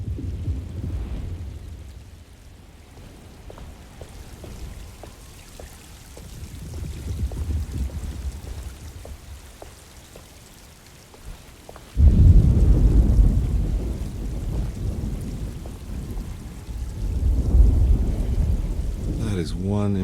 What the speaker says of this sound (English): Just keeping an eye out for the storm.